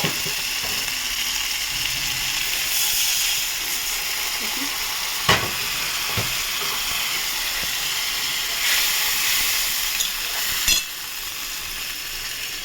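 Fish curry with cumin sizzles steadily in a hot pan as water goes in, a broad continuous hiss with a few sharp clicks and scrapes, no talking.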